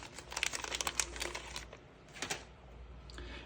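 Zip tie being handled and pulled around a rifle rail while wrapping the rifle, producing close crinkling, ratcheting clicks in quick bursts, a short pause, then another brief burst, over low background hum.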